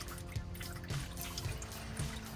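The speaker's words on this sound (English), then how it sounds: "that oil's draining out" Engine oil draining from a 2021 Honda Pilot runs in a steady liquid trickle with a faint drip repeating roughly every half second, close by and continuous.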